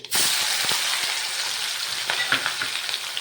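Ginger, chili and garlic paste sizzles steadily in hot oil in a pan for a whole-aubergine curry, a loud continuous frying hiss with a few soft stirring clicks, no voices.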